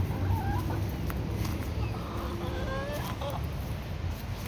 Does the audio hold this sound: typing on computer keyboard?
no